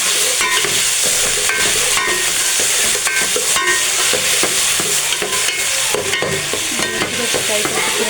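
Chopped tomatoes fry with browned onions in a pot, making a loud, dense sizzle that runs throughout, broken by regular stirring scrapes.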